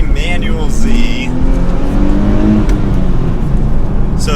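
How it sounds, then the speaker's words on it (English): A manual Nissan Z sports car pulls away and accelerates, its engine note rising loud and close through the gears while a person talks over it. "now let's set off in the manual Z"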